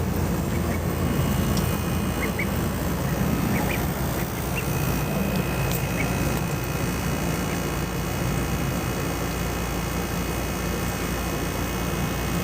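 Ducks quack now and then amid a steady outdoor roar that sounds like a distant engine or aircraft.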